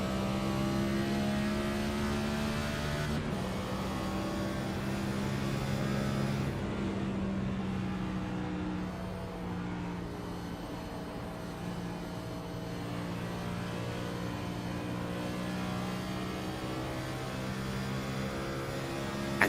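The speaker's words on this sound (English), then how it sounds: "take a listen more specifically to see what's going on regarding engine damage" A damaged race car engine in a racing video game drones with steady harmonic tones, shifting pitch partway through, then carrying on at a lower, even hum for the rest without any voices.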